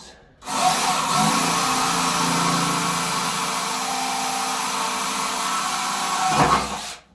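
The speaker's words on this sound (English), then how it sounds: "So I'm going to drill that." A power drill whirs steadily and loudly for several seconds inside a home-built diesel submarine, starting abruptly and cutting off near the end, with no talking.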